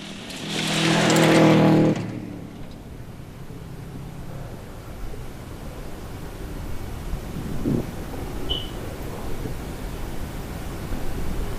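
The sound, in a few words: Subaru Legacy rally car racing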